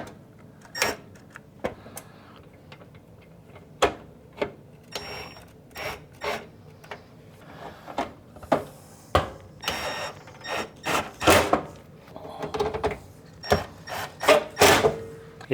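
Irregular small clicks and scrapes as a screw is threaded and tightened by hand into an oven door, close and quiet, coming in uneven bursts that grow denser toward the end.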